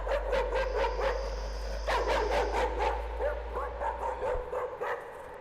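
Barking from a dog in the horror game Layers of Fear comes in repeated bursts of yips and bow-wows over a steady low drone, with a thin high tone holding briefly in the background.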